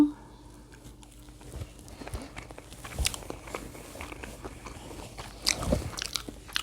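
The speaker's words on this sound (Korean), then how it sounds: "자 그럼 먼저 과메기부터 한 점 먹어보겠습니다 과메기를 초장에 찍어서" Someone eats half-dried gwamegi fish dipped in chojang sauce, with close, soft biting and wet chewing and a few sharper crunches, under a quiet background and some faint voice.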